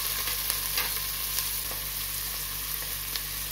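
Chopped onion and green chili sizzle softly in a pan with cumin and cardamom, a quiet steady fry under a low hum, broken by occasional light clicks of a stirring spoon.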